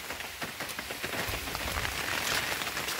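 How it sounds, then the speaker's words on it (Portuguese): Light rain falls steadily on a garden, a dense, even patter of drops on leaves and surfaces, close and continuous with no voices. "Uma chuvinha aqui maravilhosa, gente, tá perfeito"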